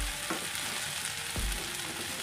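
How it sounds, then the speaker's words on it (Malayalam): Onion, ginger and green chili frying in a pan for lemon rice, a soft continuous sizzle with a couple of brief scrapes from stirring, close and quiet, without speech. "അതിലേക്ക് ഇഞ്ചി പച്ചമുളക് ഇട്ടിട്ട് ഇനി നമുക്കൊന്ന് നന്നായിട്ട് വഴറ്റിയെടുക്കുക"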